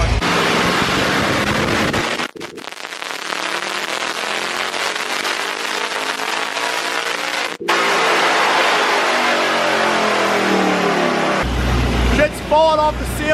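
A car engine revs hard on a dynamometer after an intake swap, a loud, sustained roar whose pitch climbs through the pull, with brief dips partway through and a sharp cutoff near the end.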